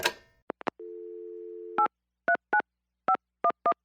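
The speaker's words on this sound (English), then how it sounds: "here's his latest voicemail message" A phone voicemail system plays a short series of beeps, a steady held tone of about a second, then a string of rapid keypad dial tones in uneven bursts, clear and alone over silence.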